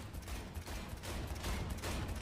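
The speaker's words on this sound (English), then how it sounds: "I shot the driver" Rapid bursts of gunfire in the video game Cyberpunk 2077, a dense crackling volley of shots during a vehicle chase, fairly faint and with no talk over it.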